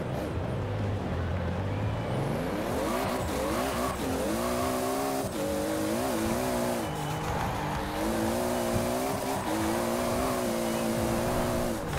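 A 2JZ-engined Hot Wheels car in the racing game Forza Horizon 4 accelerates hard, its loud engine note climbing and dropping through gear changes in a continuous, sustained roar.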